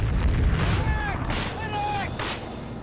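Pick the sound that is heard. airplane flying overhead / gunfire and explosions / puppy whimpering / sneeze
gunfire and explosions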